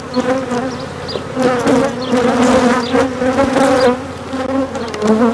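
Honeybees buzz densely around an open hive, a close, wavering drone that swells and fades as insects fly past, steady throughout.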